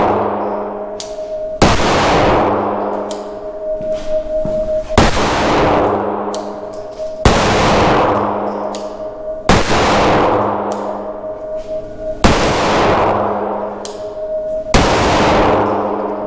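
Six loud, sharp pistol shots from a SIG P365 Fuse, spaced roughly two to three seconds apart, each with a ringing metallic clang and a decaying echo, with no talking between them.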